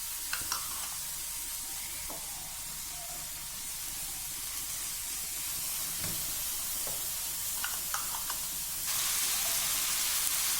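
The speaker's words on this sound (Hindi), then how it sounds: "जितनी भी वेजिटेबल्स थी उनको हमने अच्छे से सौटे कर लिया है।" Vegetables for a spring roll stuffing sauté in a hot pan with a steady, even sizzle, broken by faint clinks of stirring, with no voices.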